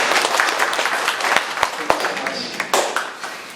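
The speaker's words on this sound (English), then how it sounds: "I think we should give him a big applause for his work that he has done." Audience applause for a professor at a landslide and debris flow short course workshop: dense, steady clapping from a room full of people, with a few sharper, louder claps standing out near the end.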